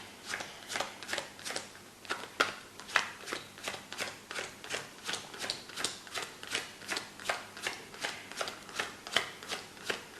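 Playing cards dealt one by one face down onto a table, a steady run of crisp close snaps at an even rhythm during a magic trick, with no talk over the dealing.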